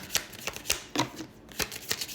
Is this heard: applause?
no